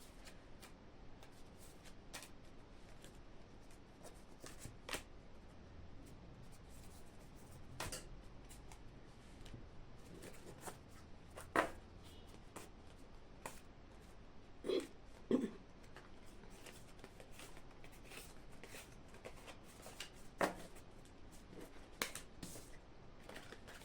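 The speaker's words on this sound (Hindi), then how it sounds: "जल्दी जल्दी मैं कार्ड निकाल लेती हूँ।" Tarot cards are shuffled and drawn, giving faint, scattered soft clicks and flicks of card stock against a quiet room background, with no voice heard.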